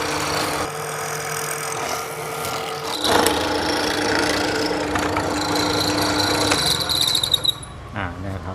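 Power saw cutting a tenon in wood, a steady mechanical whine running throughout with a louder cutting surge partway through, then stopping near the end.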